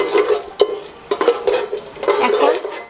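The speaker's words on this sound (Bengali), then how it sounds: "এখন আমরা এইগুলোকে তেলের মধ্যে দিয়ে ভেজে নেব কিছুক্ষণ, যাতে ঘ্রাণটা বের হয়" Cloves, black pepper and green cardamom fry in hot oil in a pan with a soft sizzle, broken by a few sharp clinks and scrapes of stirring. The sounds come in short bursts, with no talking.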